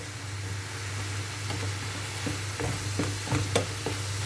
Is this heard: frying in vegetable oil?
yes